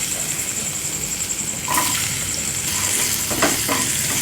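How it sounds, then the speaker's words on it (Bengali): Potatoes frying in oil in a wok after a cumin tempering, a steady close sizzle with stirring scrapes and bursts of crackle. "আলুগুলো একটু ভালো করে ভেজে নেব।"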